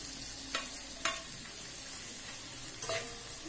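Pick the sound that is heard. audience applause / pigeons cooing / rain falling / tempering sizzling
tempering sizzling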